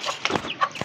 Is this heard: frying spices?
no